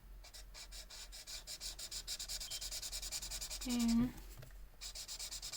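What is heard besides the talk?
coloring with a chisel-tip marker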